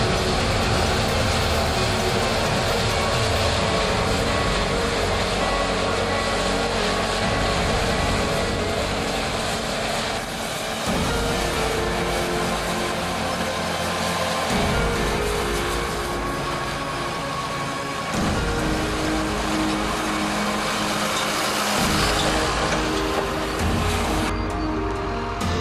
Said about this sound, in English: The trailer load is then tipped into a lorry to take back to the factory.